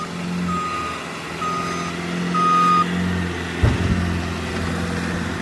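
A truck pushing back and stacking snow banks sounds a steady series of reversing beeps over its low idling engine, with a brief clunk near the end.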